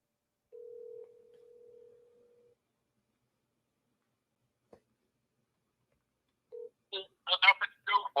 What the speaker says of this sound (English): Maybe you'll pick up the phone.